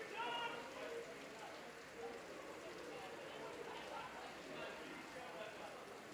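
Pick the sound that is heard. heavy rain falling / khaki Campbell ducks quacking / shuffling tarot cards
heavy rain falling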